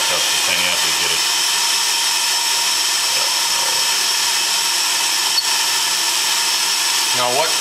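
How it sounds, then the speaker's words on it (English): Oil burner blower and atomizer on steam locomotive 801 run during a test fire-up, giving a loud, steady close-up roar and hiss, with brief voices underneath near the start and end. "That's the atomizer and this is the blower"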